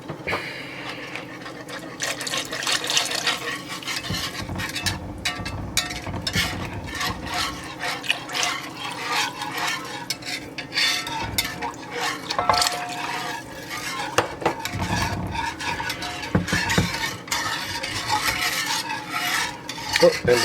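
A spoon scrapes and stirs around the edges of a pan, giving repeated rasping scrapes and light knocks at close range in an irregular rhythm, with a faint sizzle underneath.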